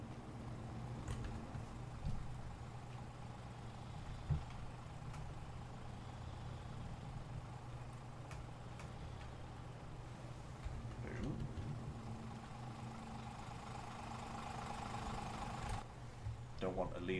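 A vehicle engine idles in Farming Simulator 22, a steady low rumble with a faint hiss and clunk partway through, running for the whole stretch.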